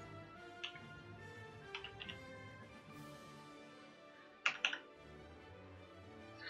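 Typing on a computer keyboard while filling in an in-game name on a form, with a few scattered key clicks and a short cluster of louder taps near the end, close and otherwise quiet.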